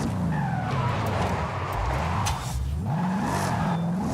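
A 2018 Mustang RTR Spec 5 on racing wheels slides through a drift in Forza Horizon 5, its engine droning steadily beneath a continuous tire skid and squeal that rises and falls over a few seconds.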